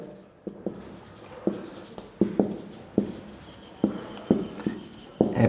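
Writing strokes during a seventh-grade math lesson, a series of short, close, rhythmic scratches and taps at irregular intervals, heard alone without talk.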